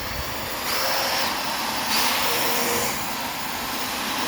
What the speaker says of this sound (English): Just bought a cheap brush at the auto parts store that fits onto my drill.